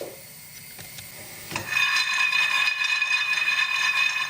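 Hazelnuts are stirred and turned in a saucepan as they toast, giving a few faint knocks and then a steady close rasping, rattling scrape of nuts tumbling against the pan.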